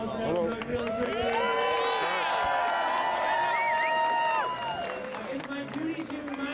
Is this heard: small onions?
no